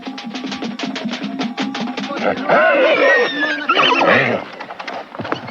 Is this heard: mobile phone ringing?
no